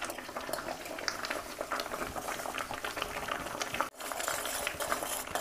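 A neem leaf mixture boils in a pot on a gas stove, a dense continuous bubbling and gurgling, close and fairly quiet, with a brief clink of a utensil partway through and no voices.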